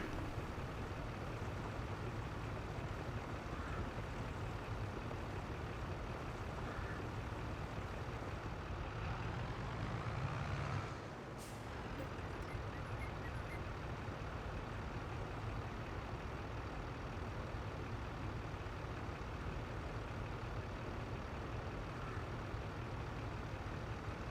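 A tractor pulling trailers in Farming Simulator 22 gives a steady, droning engine rumble throughout, with a brief dip and a short hiss midway before the drone resumes, no talk.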